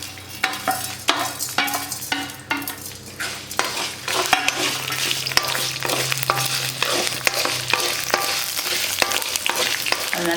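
Pepper, garlic and small shallots frying in oil for a fish curry, a loud continuous sizzle broken by frequent sharp scrapes and clinks of a spoon against the pan, with no talking.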